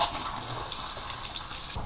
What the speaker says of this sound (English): Now let's go ahead and turn our water on the faucet.